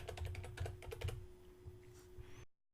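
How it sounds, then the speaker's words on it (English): Quick bursts of typing on a computer keyboard, with a rapid run of close, crisp keystrokes followed by a few scattered taps before the sound cuts off. "So I'll type WordPress."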